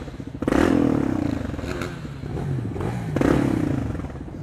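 A Triumph Street Triple 675cc motorcycle, restricted to 47.5 hp for the A2 licence, with its engine droning close by and swelling in two rising revs against a steady running hum.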